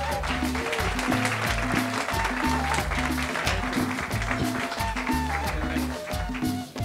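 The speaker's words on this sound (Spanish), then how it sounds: "Un aplauso para ellos, por favor." An audience at a school music event applauds for the panelists, dense sustained clapping filling the whole stretch under a rhythmic musical accompaniment, with no pause.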